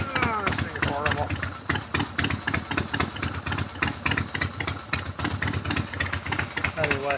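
A motorcycle fitted with drag pipes idles slightly high, a loud, close, lumpy exhaust burble with uneven rapid pulses, while someone talks over it.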